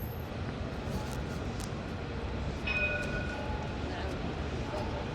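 Ambience inside Casa Voyageurs train station in Casablanca, Morocco: a steady rail rumble and hall noise with a brief high squeal partway through and faint voices underneath.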